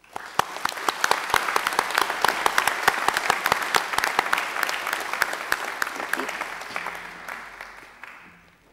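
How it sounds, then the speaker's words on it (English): A large audience applauds graduates of a business and economics faculty at a university graduation ceremony, a loud dense round of clapping that swells, holds, and then tapers off toward the end. "Please join me in giving them a round of applause"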